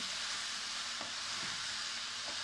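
Onions for French onion soup cook in a pan over fairly high heat, giving a constant hissing sizzle with a few faint spoon scrapes and taps rising out of the steady noise.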